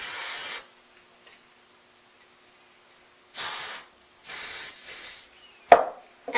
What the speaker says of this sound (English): I'm going to spray both sides